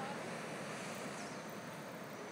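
Surf rolling onto a black sand beach on Maui, heard as a continuous broadband wash of waves with some wind noise, steady and moderately distant, no talking.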